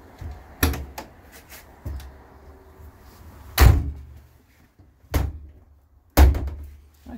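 Doors on a 1995 Chevy G30 Leader ambulance van shut with several heavy slams and thuds, the loudest three spaced a second or so apart, close and alone.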